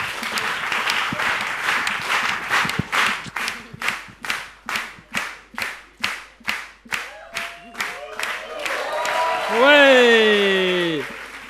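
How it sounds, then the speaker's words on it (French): An audience at a live stage game show claps, first as a dense burst of applause, then as a steady rhythmic clap in unison, ending under loud cheering and whooping voices. "Allez, le public, on applaudit."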